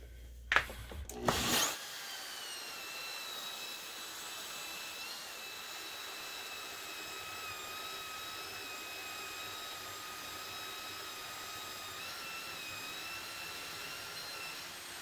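Grain mill grinding malted barley for a Kolsch beer, a steady whirring, rasping drone close by that runs evenly and alone after a brief clatter at the start.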